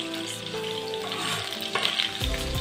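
Chopped onion sizzles in melted butter and olive oil in a pan over medium heat, a steady close frying hiss with brief stirring scrapes and no voices.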